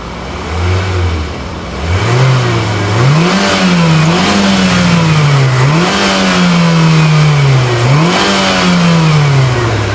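A 2022 Mitsubishi Xpander Sport with CVT revs loudly and close, its engine pitch rising and falling in repeated swells as the throttle is blipped, holding a steady high drone near the end, with no voices.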